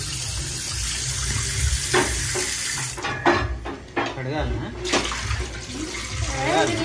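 Water drained from soaked rice for biryani pours and splashes into a vessel in uneven bursts, nearby and fairly loud, while a person speaks over it.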